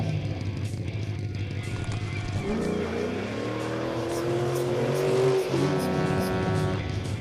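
A car in the stunt game Stunt Car Extreme drives in reverse, its engine whining and rising in pitch under continuous game noise, close and fairly loud, with no talk.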